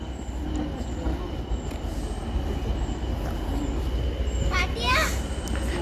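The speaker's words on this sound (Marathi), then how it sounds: "तर आता जस्ट ट्रेन येत आहे" A train rolls into the Engine House Visitor Centre on the Severn Valley line with a steady low rumble and rattling cars, and a squeal of wheels rises near the end while voices murmur faintly.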